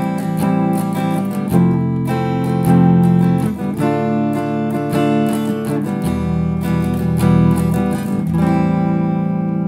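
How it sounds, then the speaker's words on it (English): A 1-6-2-5 chord progression in a minor, indie style rings out as four sustained chords, each struck and held for a couple of seconds, loud and clear with no voices. "a 1-6-2-5 chord progression would sound like this"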